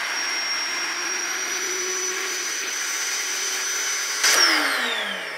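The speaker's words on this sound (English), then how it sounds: "I'm going to use the portable power station to pump this up" A built-in electric pump steadily whines as it inflates a queen air mattress, powered from a portable power station, then shuts off near the end with a falling tone.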